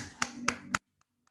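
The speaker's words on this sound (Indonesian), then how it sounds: "Kita berikan tepuk tangan." At a school orientation event in Indonesia, three sharp, evenly spaced hand claps ring out close by to welcome a guest speaker, followed by a couple of faint, soft taps in near silence.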